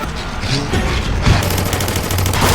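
Rapid bursts of video game gunfire from glowing bullets in Alone in the Dark, dense crackling volleys that continue without break and stay loud from start to finish.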